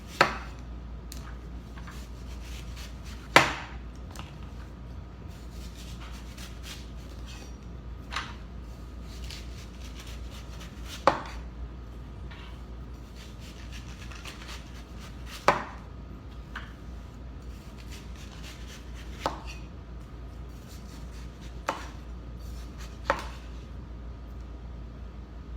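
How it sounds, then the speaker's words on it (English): Knife cutting the rind off a watermelon on a cutting board, with sharp, isolated chopping knocks at irregular intervals over a low steady background hum, close and moderately quiet. "get some of the rind off, and we are done cutting the rind"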